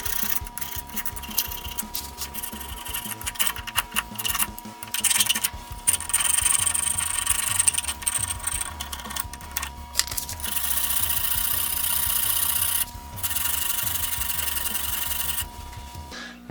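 A cheap plastic-handled screwdriver scrapes stuck rust off a steel reamer in a close, continuous gritty rasp, with steady back-and-forth strokes and a few brief pauses.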